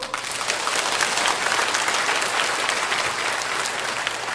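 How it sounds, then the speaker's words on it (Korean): A church congregation applauds at a service after a hymn, with steady, dense clapping that fills the room at full volume for the whole stretch. "박수."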